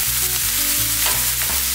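Onion sautéing in a pan over medium heat for Greek moussaka, a loud continuous sizzle with faint stirring scrapes, with no voices.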